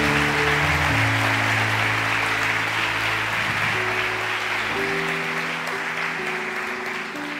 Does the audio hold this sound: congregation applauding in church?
yes